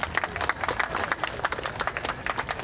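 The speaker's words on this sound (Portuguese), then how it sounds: "Vamos receber com uma salva de palmas e vamos assistir." An audience at a Kyudo demonstration during a Japan festival gives continuous, moderately close applause with individual claps audible throughout.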